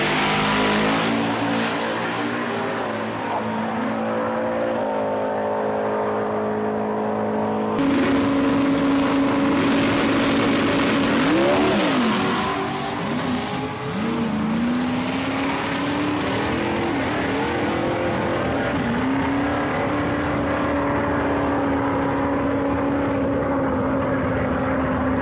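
Drag racing car called the Devil's Reject making a pass at Maryland International Raceway during an import versus domestic event: a loud, sustained engine roar that jumps abruptly, then wavers and holds at high revs down the track.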